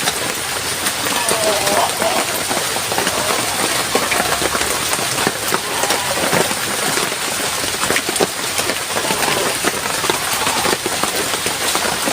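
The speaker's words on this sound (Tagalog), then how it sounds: "Ulan talaga yan" Steady rain pours down in a dense, even hiss with no break across the whole stretch, close by and fairly loud.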